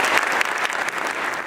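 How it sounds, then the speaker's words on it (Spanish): Loud, dense audience applause at a convention after a speaker finishes a talk, a sustained wash of many hands clapping close by with no voices. "Recibamos con un fuerte aplauso"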